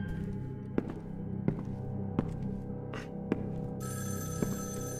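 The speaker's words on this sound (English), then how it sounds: "Do I answer the phone?" Telephone ringing in the horror video game Evil Inside: regular, evenly spaced sharp rings repeating about every three-quarters of a second over a steady low hum, with a high tonal layer joining near the end.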